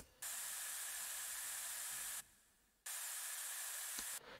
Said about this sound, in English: I added some white noise to the notes of the bass,